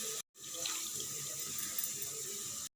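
Water poured into a mutton curry while it cooks: a steady, moderately quiet stream of splashing liquid that runs continuously after a brief gap at the start.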